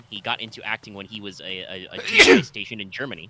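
A single sharp sneeze bursts out in the middle of steady male conversation, standing out loudly against the talk during a Metal Gear Solid 2 play session.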